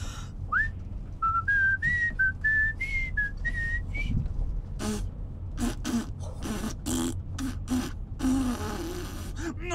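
A person attempts to whistle, producing a series of thin, wavering tones that start and stop, followed by breathy, airy bursts where the whistle fails, with low room noise underneath.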